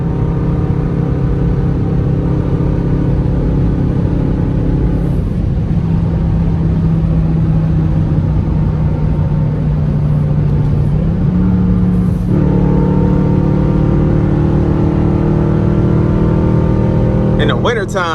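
A 2021 Dodge Durango RT with straight pipe exhaust drones loudly at top speed at night, a constant close-up engine roar with a slight pitch shift midway and no break.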